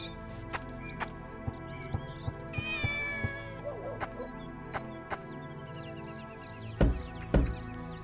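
Cat meowing in the Shenmue video game, a short rising mew at close range amid soft ticking game sounds, followed later by a couple of dull thumps, with no talk.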